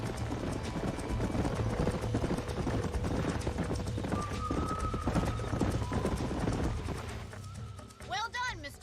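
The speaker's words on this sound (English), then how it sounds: "These are fine horses." Horses clip-clop at a gallop across open ground in the Red Dead Redemption western game, hooves drumming steadily under background music, with a short whinny or neigh near the end.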